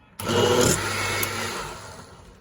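A kitchen blender whirs through wine-soaked fruit for a Jamaican Christmas fruit cake, a loud motor burst starting abruptly, running about a second, then easing down as it winds off.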